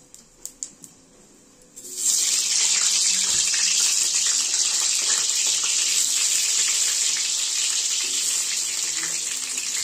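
Potatoes dropped into hot oil set off a sudden loud, steady hiss and sizzle after a couple of quiet seconds with a few small clicks, continuing strongly to the end without talk.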